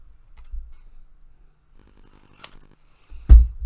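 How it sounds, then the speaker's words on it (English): Scissors fussy cutting a printed motif from paper, heard as a few quiet snips near the start, a sharper cut mid-clip and a louder closing snip, close by with no talk. "If I fussy cut him out"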